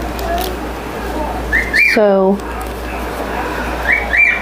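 A pet cockatiel whistles in the background, giving a couple of short rising chirps and a longer descending whistled phrase, mid-distance under quiet room noise while someone repots monstera plants nearby, with a brief spoken word.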